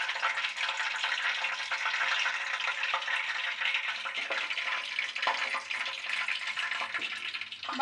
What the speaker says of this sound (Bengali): বাকি মোগলাইগুলো একইভাবে ভেজে নেব।